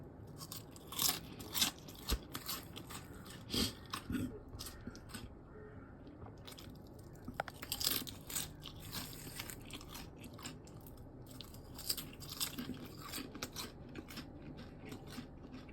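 Fried potato peel chips crunch in a series of crisp, irregular bites and chews, sharp crackling bursts separated by short pauses, close and fairly quiet with no talking.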